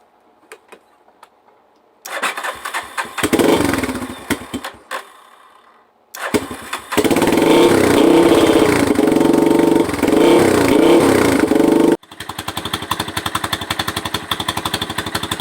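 A cheap used ATV four-wheeler engine is cranked, stalls and starts again, then runs at a loud, steady idle with a ticking rattle from an exhaust pipe pressed against the frame.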